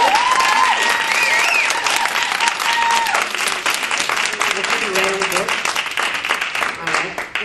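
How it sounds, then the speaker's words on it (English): An audience claps in a dense, steady burst that stays strong for the whole stretch, while a voice speaks over the applause. "Let's give Angel a round of applause. A bigger round of applause."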